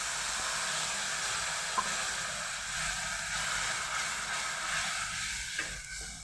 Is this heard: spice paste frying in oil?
yes